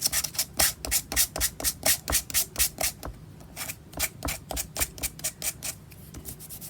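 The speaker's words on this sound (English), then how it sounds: "I like to sand my things down." Hand sanding of an old junk item: rhythmic, close back-and-forth rasping strokes at a quick steady pace, with a short break midway before the strokes resume.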